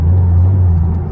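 Steady, loud low rumble from a 2014 Ford Mustang 4.0 with a Roush axle-back exhaust, a close, continuous idle throb with no voices.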